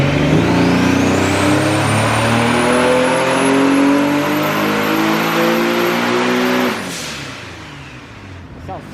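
Turbocharged Nissan 370Z engine revving hard on a dyno, a loud close sustained roar climbing in pitch for several seconds before the throttle cuts and it drops away, with voices around it.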